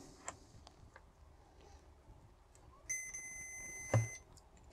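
Multimeter continuity beep while testing a MOSFET in a battery charger repair: a faint steady electronic tone sounds for just over a second near the end, with quiet bench clicks and handling before it.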